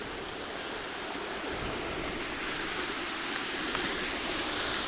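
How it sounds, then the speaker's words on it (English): A small tributary stream, running deeper in November, rushes and gurgles in a steady broadband wash close by, with no voices over it. "This wee tributary running just at the Struil between Oma and Newton."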